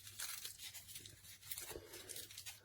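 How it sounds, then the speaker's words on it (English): Plastic packaging around a pH test strip roll is pulled open, giving faint, continuous crinkling and tearing sounds close by, with no talking. "And if I undo the packaging"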